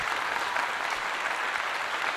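Steady, dense clapping from many hands fills the whole stretch at an even level, a continuous wash of applause with no voices on top.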